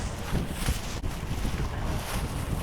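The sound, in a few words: strong wind whipping outdoors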